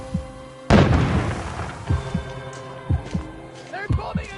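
Bombing explosions in the video game We Happy Few: one heavy, booming blast with a long rumbling tail, then several smaller thuds, all under ongoing voices and background hum.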